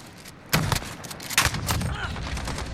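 Remington TAC-14 DM shotgun fired in Call of Duty Modern Warfare, several loud, booming blasts in quick succession with short tails between them.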